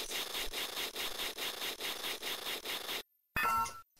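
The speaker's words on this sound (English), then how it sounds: "So we're just going to be sawing away at it here." Rhythmic back-and-forth rasping of a hand file sawing through a rusted lock in the game Mother 3, steady repeated strokes for about three seconds, then a brief silence and a short bright chime-like effect.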